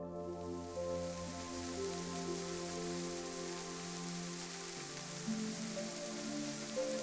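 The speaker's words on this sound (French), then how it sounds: "des nuages arrivent et la pluie commence à tomber" Slow, fine, steady rain falls as a soft, even hiss beneath a sustained, calm musical drone, with no voices.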